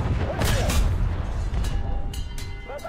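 A Soviet 2S1 cannon fires in the video game War Thunder, giving heavy booming shots and rumbling impacts over a loud, busy battle background.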